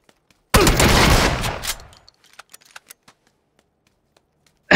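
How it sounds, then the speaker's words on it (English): A new two-shot shotgun fires a loud, close rattling burst lasting over a second and trailing into scattered clicks and small knocks, with another sharp blast right at the end. "I thought it was full auto, but it was shooting very weirdly. It is a shotgun."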